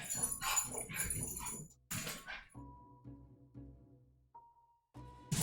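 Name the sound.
dog whimpering at a cat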